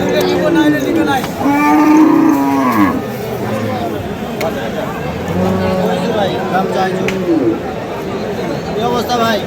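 Dairy cows bellow with long, loud moos at the Khochabari cattle market in Thakurgaon, several calls in a row up close over a busy background of crowd babble and people talking.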